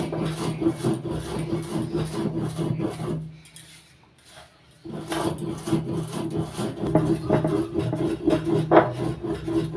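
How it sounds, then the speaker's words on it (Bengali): Spices, including dried red chillies and broken bay leaves, ground by hand on a stone grinding slab with a stone muller, giving a steady rasping, rubbing scrape close by that pauses briefly midway before resuming. "আমি মশলাটা শিলনোড়ে বেটে নিচ্ছি"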